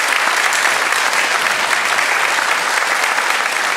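Steady applause from a church congregation at a Sunday morning service, dense and even clapping filling the whole stretch with no voices over it.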